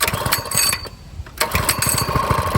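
Coleman CC100X mini bike engine being pull-started, a choppy sputtering small engine that putters loudly, cuts out briefly, then catches again with a rapid pulsing rhythm.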